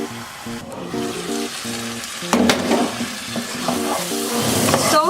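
Green peas cooking over a medium flame in a pan, giving a steady moderate sizzle and crackle with stirring scrapes, set under soft background music and growing a little louder toward the end.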